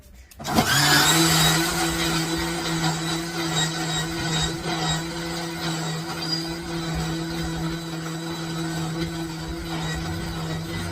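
A kitchen grinder whirs steadily and loudly, blending homemade beauty cream ingredients such as coriander and salt, with one sustained motor drone and no talking.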